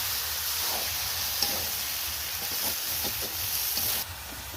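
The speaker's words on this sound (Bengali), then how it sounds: "এবার ভালো করে কষিয়ে নেবে।" Duck meat with ginger paste sautéing in a pan, a bright broadband hiss of sizzling with soft stirring scrapes underneath, steady and close before the sizzle drops a little near the end.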